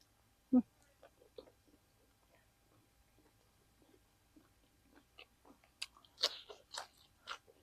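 Close, quiet chewing and crunching of Mekong river fish koi, a spicy Thai-Lao raw fish salad, with one sharp bite near the start and then a run of wet clicks and munches growing busier toward the end.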